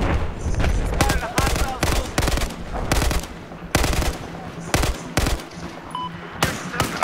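Rapid automatic gunfire rattles in Battlefield 4, with loud bursts and single shots packed closely together for the whole stretch and a brief lull near the end.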